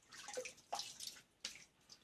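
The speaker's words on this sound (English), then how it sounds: "Splashing water everywhere." Water splashes in a few quick, faint bursts at a sink during a wet shave with a Leaf razor and shaving brush, each splash separated by a brief pause.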